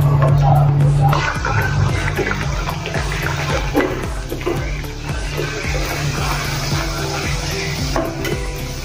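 Puris frying in hot oil for a halwai-style puri bhaji, a dense steady bubbling sizzle running throughout, with a voice briefly heard at the start.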